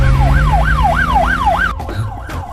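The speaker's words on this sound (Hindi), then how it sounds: "ये तो पुलिस का सायरन है।" A police siren wails, rising and falling in a steady rapid cycle, loud and close, then cuts off abruptly with a few clunks.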